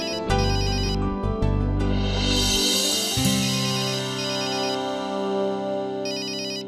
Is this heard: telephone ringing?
yes